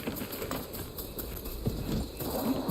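Horse hooves clip-clop in a primitive-era open-world video game, a steady patter of steps close by under ambient game sound, with a faint bit of talking.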